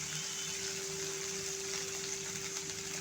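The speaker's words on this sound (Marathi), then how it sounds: "आता अर्धा ग्लास पाणी आपण ह्याच्यात ॲड केलेलं आहे" Half a glass of water is poured into a cooking pan on a low gas flame, a soft continuous watery rush with a steady low hum beneath.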